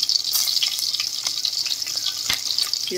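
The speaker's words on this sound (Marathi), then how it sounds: "तर ह्याच्यामध्ये टाकते मी मिरची बारीक कटिंग केलेली आहे" Finely chopped green chili dropped into hot oil, crackling and sputtering in a steady, bright frying sizzle close up, with a few small pops and stirring scrapes, no voices.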